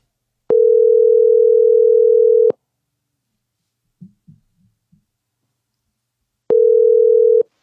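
A steady landline dial tone plays while a prank call is being placed. It sounds for about two seconds, stops for a few faint clicks, then returns, loud and alone with no talking.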